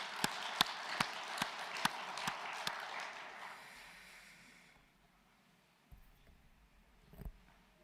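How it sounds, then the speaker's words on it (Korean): A church congregation at a Sabbath service applauds in a room, with evenly spaced, fairly crisp claps ringing out. The applause fades away after about four seconds, leaving near silence with a couple of faint bumps. "하나님께 영광 돌리면서 박수 한번 칩시다."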